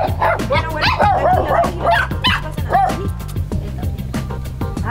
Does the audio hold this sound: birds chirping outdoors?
no